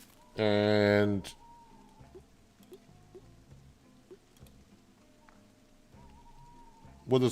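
Steady, faint rain falls in the farming video game Farmer's Dynasty 2, a soft continuous patter in a quiet scene, with a brief louder tonal sound near the start and occasional small game noises.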